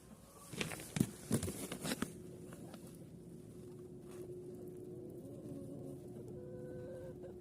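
Egg-laying hens cluck in a short flurry near the start, then the calls fade into a steady low hum with an occasional faint cluck.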